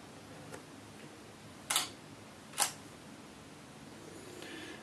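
A camera shutter is fired remotely through the CASE Remote Android app, giving two sharp, bright clicks about a second apart over a quiet room hiss, with a faint tick just before them.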